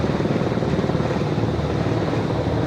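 Fighter jets launching from an aircraft carrier flight deck in the PS2 game Ace Combat 5: The Unsung War, a steady loud roaring engine wash that holds evenly throughout without speech.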